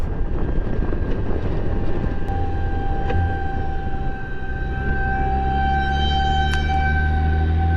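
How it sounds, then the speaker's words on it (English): A sustained tonal wail with layered steady pitches rises over a low rumbling drone, holding continuously and loud throughout. "Pretty sure that's the purge siren going off."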